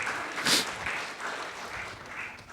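Congregation clapping in an online church worship service, a soft, moderately distant wash of applause that swells briefly near the start and then continues at a lower level.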